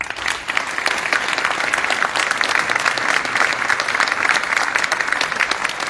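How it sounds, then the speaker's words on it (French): An audience at a benefit concert breaks into sustained applause, a dense, steady wash of many hands clapping that fills the whole stretch at a fairly loud level, with no voices standing out. "je pense que ce serait bien de les applaudir"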